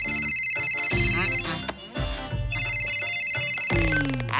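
A phone ringtone plays through a call, a bright electronic melody of repeating tones heard clearly and fairly close with no talk over it.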